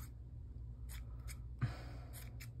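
Scissors snip through a Christmas craft piece in a few short, crisp cuts spread across the moment, close by over a steady low hum, with no voices.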